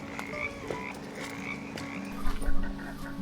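Frogs croak from large rain-filled puddles along a trail in Red River Gorge, with repeated creaky calls overlapping in an uneven chorus, moderately near, louder toward the end, with no talking.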